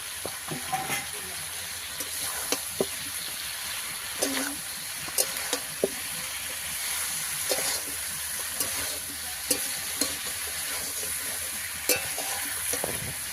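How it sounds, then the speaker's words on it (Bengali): Cauliflower and potatoes stir-fried in a pan, a steady close sizzle with repeated scraping clicks of a spatula stirring through it, no talking. "ফুলকপি একটু হালকা করে ভাজা ছিল, তাই আর একটু কষিয়ে নেবো।"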